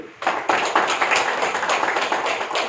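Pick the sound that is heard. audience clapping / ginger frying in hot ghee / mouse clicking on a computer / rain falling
audience clapping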